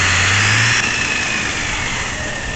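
A bus engine idles steadily in a driving game, a smooth continuous mid-pitched hum with a low drone that eases slightly after the first second, alone without talk.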